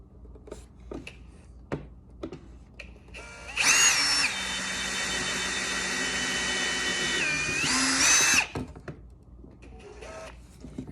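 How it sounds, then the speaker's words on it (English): A power drill with a 5/64 bit whirs steadily for about five seconds as it bores into a wooden drawer faceplate, starting and stopping abruptly, with quiet handling noises before and after. "And I'm just letting the drill follow"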